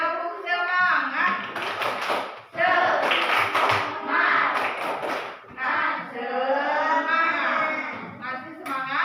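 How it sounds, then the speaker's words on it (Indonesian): A fifth-grade class chants and claps in a rhythmic encouragement routine, sharp hand claps punctuating lively children's voices at close range throughout. "Sebelum itu, coba tepuk semangat."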